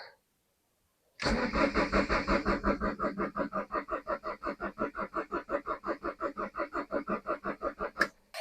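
A car engine cranking without starting, after nine years stored in a garage: a steady, loud rhythmic churn of the starter turning the engine over for about seven seconds, never catching, ending abruptly.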